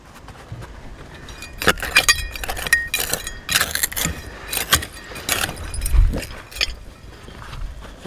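An old glass bottle, stoppered with a cork, is handled up close: scattered clinks and knocks of glass come in irregular bursts, with light rustling between them and no talking.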